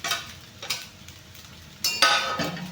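Fried potato pieces stirred into sabudana khichdi in a pan, with a spoon scraping and clinking against the metal in a few short bursts over a faint background sizzle.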